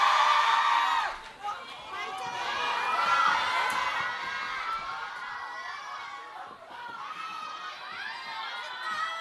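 A crowd of fans at a singer's comeback showcase for his first album cheers and screams continuously and loudly, with shrill voices rising and falling throughout.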